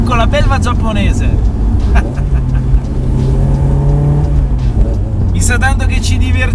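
Honda S2000 sports car driving with engine revving, loud and close, a sustained engine drone with rising rev sweeps; a voice talks over parts of it.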